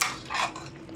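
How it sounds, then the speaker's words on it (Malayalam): Food being stirred in a pan gives a brief metallic scrape and clink of a utensil against the pan, close and quiet, lasting only a moment. "ഇനി ജസ്റ്റ് ഒന്ന് വീണ്ടും ഇളക്കി കൊടുക്കുക."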